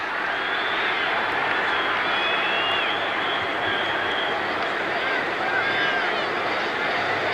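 A large stadium crowd in Atlanta at a 1980 NFL game between the Jets and Falcons claps and roars in a steady, unbroken wash of noise that fills the whole stretch.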